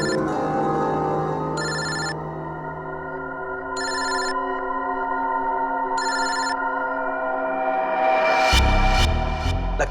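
A telephone rings in three evenly spaced bursts of bright electronic trilling over a sustained musical drone, then a sudden swell of rising effects near the end; no voices.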